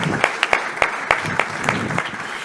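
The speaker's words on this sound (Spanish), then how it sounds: "Aplauso también para él" Applause for a guest speaker on a panel about public policy in educational technology, a crowd clapping steadily with a few sharp individual claps standing out, under a speaking voice.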